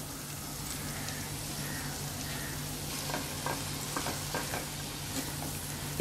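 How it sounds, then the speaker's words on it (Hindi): Kashmiri chili paste, made from boiled and ground chilies, roasts in a pan over a slow flame: a soft, continuous sizzle under a low steady hum, with a few faint stirring scrapes. "इसे अच्छी तरह से भूनेंगे तो जो मिर्ची कश्मीरी मिर्ची का जो रॉ फ्लेवर है वो पूरा चले जाना चाहिए।"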